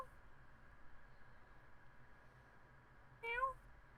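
A pet cat gives a single short meow near the end, fairly faint and slightly distant, after a quiet stretch of low room hum.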